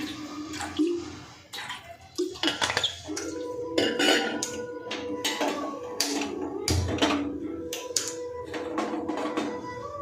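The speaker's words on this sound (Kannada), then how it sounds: "ಪಾತ್ರೆ ಇಟ್ಟು ಸ್ವಲ್ಪ ನೀರಾಕಿ ಹಾಕಿ ಬೆಲ್ಲನ ಕರ್ಗಿಸ್ಕೊತೇನೆ" A cooking pot set down and handled on a kitchen stove while water is added to melt jaggery for moong dal payasam: repeated close metallic clinks, knocks and scrapes, with a brief splash of poured water.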